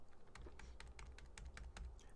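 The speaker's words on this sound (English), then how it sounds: "hit tab on your keyboard" Quiet, rapid keystrokes tap on a computer keyboard, about a dozen crisp clicks in an uneven rhythm over a faint low background hum.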